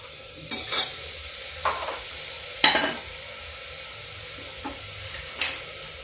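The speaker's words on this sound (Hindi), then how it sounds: "अब हम इसमें डालते हैं टमाटर प्यूरी" Tomato puree goes into a hot pan and sizzles steadily while a spoon stirs, several sharp scraping strokes standing out over the quiet frying hiss.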